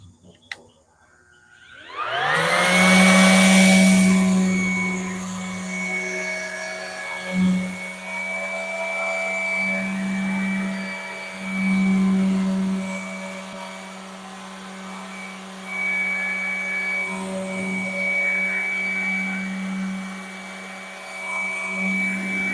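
A DeWalt or Ridgid orbital sander whirs steadily against plywood, a loud continuous buzz with a strong low hum that dips and swells slightly as pressure shifts, running without pause.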